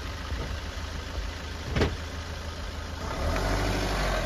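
A car engine runs steadily at low, near idle as the vehicle is turned around on a road, a constant rumble with a brief sharper noise midway and a slight rise near the end.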